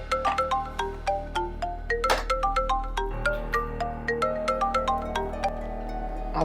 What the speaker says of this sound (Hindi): आपके दोस्त का बार बार फोन आएगा,